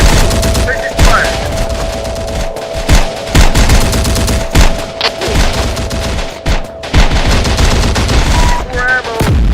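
Gunfire in the Terminator Dark Fate Defiance video game, loud rapid bursts of automatic fire and repeated shots in uneven clusters, close and dense, with faint voices underneath.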